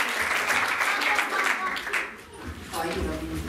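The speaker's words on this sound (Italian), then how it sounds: "Un applauso di nuovo forte a Federica" Audience applause for Federica at a music recital at Studio Toscanini in Deliceto, steady dense clapping in a room for about two seconds that fades, with speech coming in over the tail.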